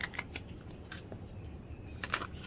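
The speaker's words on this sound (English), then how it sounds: "I'm having a hard time shuffling your cards this morning for some reason." Tarot cards being shuffled nearby, soft papery riffles and scattered flicks that come in irregular short bursts over a faint background hush, fairly quiet with no talking.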